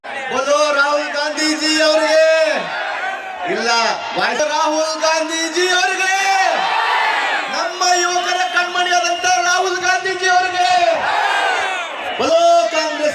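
A massive Congress Prajadhwani rally crowd roars chants and cheers for a politician, rising and falling in long, loud waves of voices that rhythmically surge together, with a loud amplified voice leading over the sea of people.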